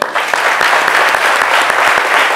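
Enthusiastic audience applause at a portrait tribute event, loud dense clapping that starts abruptly and holds steady throughout, with a few distinct sharp claps standing out.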